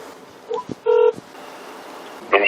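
A phone dials out with a few short electronic keypad tones at close range, beeps spaced unevenly and followed by faint background hiss.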